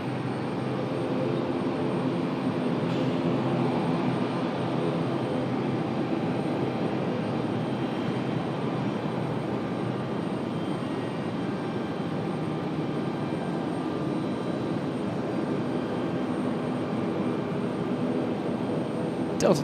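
An airliner takes off from runway 23 right at Raleigh-Durham International Airport, its jet engines giving a steady, broad roar that holds for about twenty seconds at moderate distance, without spoken words.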